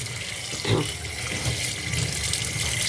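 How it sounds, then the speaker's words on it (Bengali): Prawns and small tengra fish rinsed under running water at a home sink, with a steady tap stream, splashes and handling as the catch is washed. "তো এখন কিছু চিংড়ি মাছ এনেছে আর ছোট ছোট বজুরি ট্যাংরা এনেছে এগুলোকে ধুয়ে উঠিয়ে দিই"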